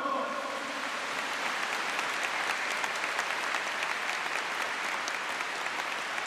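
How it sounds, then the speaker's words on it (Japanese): A stadium crowd applauds baseball catcher Nakajima at his farewell ceremony, marking the end of a 29-year career; the clapping is steady, dense and sustained throughout, and no voices can be picked out. "中島選手にもう一度拍手よろしくお願いします"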